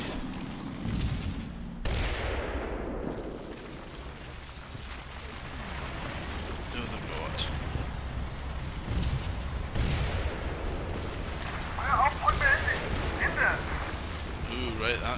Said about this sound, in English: That's the end of the artillery.